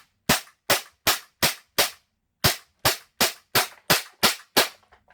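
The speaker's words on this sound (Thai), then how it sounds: "แล้วก็ยิงตัวอาให้หมดแมกกาซีนนะครับ" A Taiwanese WE Glock-17 BB pistol fires through a full magazine with eleven sharp, loud, evenly spaced cracks in two runs split by a brief pause.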